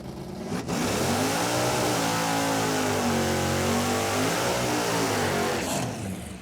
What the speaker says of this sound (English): All right, that was a pretty nice burnout.